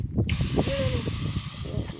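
Spices for Maharashtrian amti dropped into hot oil, bursting into a sudden loud sizzling hiss that holds steady for the rest of the moment, with kitchen clatter and faint voices beneath.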